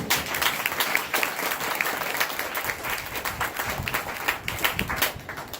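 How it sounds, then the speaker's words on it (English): Spectators at a military retirement ceremony applaud together, a full, even roar of clapping that stays strong for over five seconds with no talk. "Round of applause, people."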